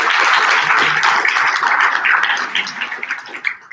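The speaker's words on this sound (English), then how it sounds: "So big round of applause to the Hawaii Tourism Authority for their support" An audience applauds loudly and steadily in support of the Hawaii Tourism Authority at an ecotourism association gathering, dense clapping filling the room before thinning out toward the end.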